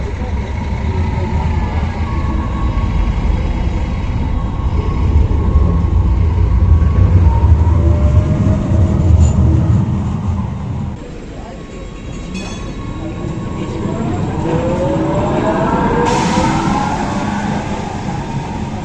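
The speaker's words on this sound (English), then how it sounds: "take a look at the regular street running trams in Dusseldorf" A tram rumbles past on a Düsseldorf street with a steady low drone, then eases off and squeals faintly on the rails as it moves away.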